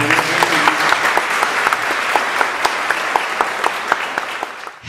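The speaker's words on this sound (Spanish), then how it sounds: "Un aplauso para Dani, por" An audience at a church service in Tijuana applauds with steady, dense clapping. A few sharper individual claps stand out from the crowd, and the applause trails off abruptly at the end.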